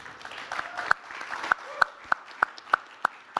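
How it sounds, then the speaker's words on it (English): A few scattered claps from the audience at a student union election referenda debate, a thin run of sharp, fairly evenly spaced hand claps, faint against a quiet room. "Round of applause, guys."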